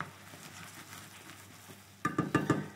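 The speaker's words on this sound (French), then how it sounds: "et là je mélange. Je fais en sorte que le sucre englobe bien mes pommes." Granny Smith apples and sugar being stirred in a pan with butter, a quiet soft scraping that ends in a few louder spoon clacks against the pan.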